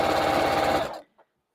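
Sewing machine stitching a baby quilt, a short fast mechanical whirring run of about a second that stops abruptly, followed by a faint click.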